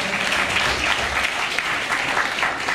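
An audience at a foundation event gives a continuous, dense ovation, steady applause filling the whole stretch at an even, loud level.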